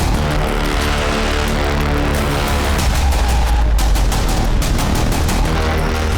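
A bomb blast in a crime drama: a loud, dense roar of explosive noise that rumbles and crackles continuously, with sharp bursts layered on top and no voices.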